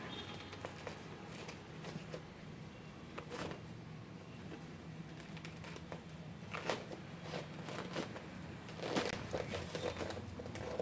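Plastic packaging on a handloom saree parcel crinkles and crumples as string is untied, in scattered close rustles and tearing bursts. Birds coo softly in the background.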